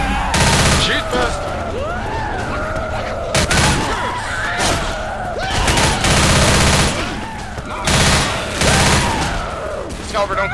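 Rapid gunfire bursts from the zombie shooter Left 4 Dead, loud and repeated in several volleys across the clip, with players' voices talking over the shooting.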